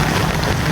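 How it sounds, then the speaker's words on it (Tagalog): Heavy rain falls on a flooded road, a brief, loud, steady hiss of rain striking water and pavement. "kanina pa umuulan"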